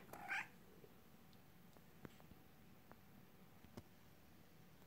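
A house cat gives a single short, rising meow close by at the start, then the room falls quiet apart from a few faint clicks and taps.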